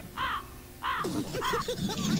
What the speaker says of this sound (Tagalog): May uwak na.